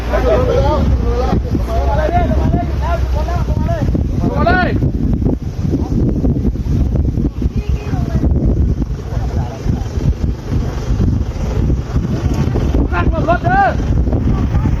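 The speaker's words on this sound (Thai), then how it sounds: "ตอนนี้คุณเตี่ยกำลังขับผ่าน ถนนเป็นแบบดินปนทรายฮะที่ค่อนข้างลื่นฮะล้อมันก็จะตะกุยตะกุยแล้วมันไม่ค่อยจะอยู่นะฮะ" A car driven slowly along a slippery road of mixed dirt and sand, its wheels scrabbling for grip, gives off a steady low rumble with wind buffeting the microphone, mostly under continuous conversation.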